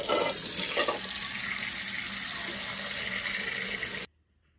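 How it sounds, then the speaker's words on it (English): Water gushes steadily from a tap into a pot of eggs, a continuous close rushing splash that runs for about four seconds, then cuts off abruptly. "I'm going to cover them with water."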